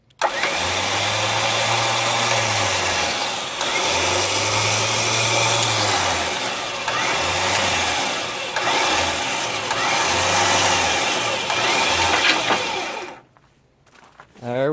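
A Badland Apex 12000 lb electric winch on a Jeep Cherokee XJ reels in its line with a loud, steady motor whine that pulses and wavers, then cuts out near the end.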